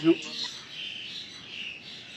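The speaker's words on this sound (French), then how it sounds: "pourquoi est-ce que quand on tourne, il y a des bruits d'oiseaux de malade?" Birds chirp loudly outdoors in a steady, continuous high twittering that runs for the whole stretch, with a brief bit of speech-like sound at the very start.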